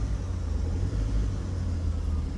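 Loaded trucks and cars crawl along a flood-damaged Himachal mountain road near Mandi, a steady low engine rumble close by without a break.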